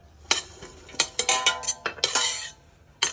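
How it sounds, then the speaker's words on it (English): A spoon stirs food in a metal pot during a home dinner in South Africa, clear close clanks and scrapes against the pot in an irregular rhythm with no talking. "You can just stir through."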